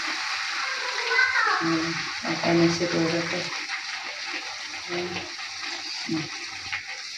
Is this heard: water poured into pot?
yes